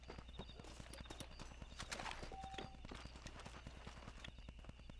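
Horse hooves clip-clop steadily at a walking pace in the Red Dead Redemption western game, a continuous rhythmic series of close, even hoofbeats under ambient game sound.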